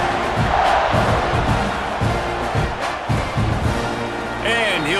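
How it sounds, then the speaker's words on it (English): A stadium crowd roars and chants in EA College Football 26 during a game against the Florida Gators, loud and continuous beneath an announcer's commentary. "this crowd is buzzing after that last score"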